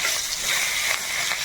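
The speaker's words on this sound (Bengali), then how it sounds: "দিয়ে পাতাগুলি খুব ভালোভাবে ভেজে নিতে হবে" Knotted jute leaves fry in oil in a kadai, giving a dense, continuous sizzling crackle heard close and fairly loud throughout.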